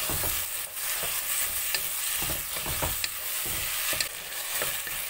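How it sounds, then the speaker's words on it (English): Sliced tomatoes fry in a pan for soya chunk biryani, giving a continuous sizzle with frequent irregular spatula scrapes and taps close by, and no voices. "The tomatoes has to cook till the mashed consistency."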